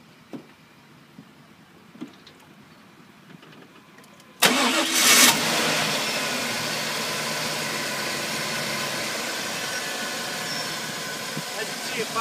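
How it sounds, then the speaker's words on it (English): A 2000 Chevy Silverado 3500 pickup with a 7.4-liter engine cranks and fires up abruptly after a few quiet seconds of faint clicks, then settles into a loud, steady idle up close. "I'm going to go ahead and fire it up for you so you can hear it."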